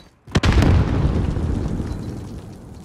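A frag grenade detonates in a military shooter video game: a single loud, close blast after a brief quiet moment, followed by a long rumbling decay.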